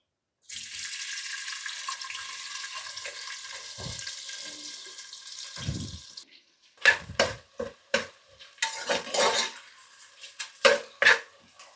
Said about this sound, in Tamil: இப்போ ஆனியன் கட் பண்ணி வச்சுருக்கிறத போடுறோம்